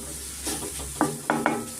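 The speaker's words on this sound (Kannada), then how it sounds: "ಸ್ಟವ್ ಆಫ್ ಮಾಡಿಬಿಟ್ಟು ಅದೇ ಬಿಸಿನಲ್ಲೇ ಸ್ವಲ್ಪ ನಾವು ಈ ಥರ ಹುರ್ಕೊಬೇಕಾಗತ್ತೆ" Masala with turmeric stirred in a hot pan with the stove switched off, a steady soft sizzle under three sharp spatula scrapes near the end.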